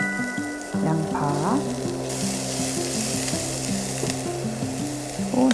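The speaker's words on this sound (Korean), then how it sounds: "달달달 볶아주세요." Carrot and onion stir-fry in sesame oil in a hot pot, a steady close sizzle with scraping stirs, while background music plays underneath throughout.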